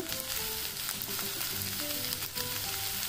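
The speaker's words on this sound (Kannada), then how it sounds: "ಎಣ್ಣೆಯಲ್ಲೇ ಫ್ರೈ ಮಾಡಬೇಕು ನೀರು ಯಾವುದೇ ರೀತಿಗೂ ಮಿಕ್ಸ್ ಮಾಡೋಕ್ಕೆ ಹೋಗಬೇಡಿ" Capsicum and potato frying in oil in a pan, a steady close sizzle running throughout with faint stirring scrapes and no voices.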